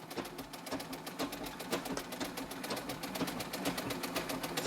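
A sewing machine stitches stretchy fabric for homemade hot/cold packs, running steadily at close range with a fast, even rhythm of needle strokes and no talking.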